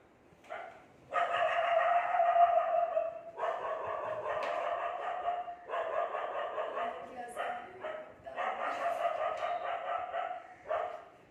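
Several dogs bark in long, dense bursts, loud and close, with brief gaps between volleys and a few yips mixed in over about eleven seconds.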